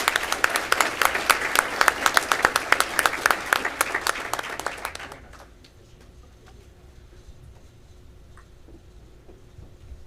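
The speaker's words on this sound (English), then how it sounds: "Please give our foundation board and staff a round of applause for their selfless service to this organization." Loud, dense applause from a large convention audience at a state FFA gathering, sustained for about five seconds before cutting off abruptly into quiet room tone.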